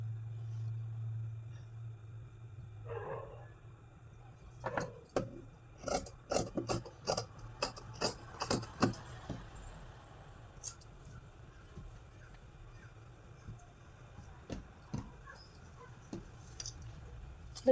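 Scissors cutting blouse fabric, a series of crisp snips clustered in the middle with scattered cuts later, close and fairly quiet over a low background hum, no talking.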